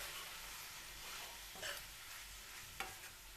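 A cabbage and potato curry stirred in a pan after red chili powder and coriander-cumin powder go in, a faint steady sizzle with two soft scraping strokes, quiet and with no talking.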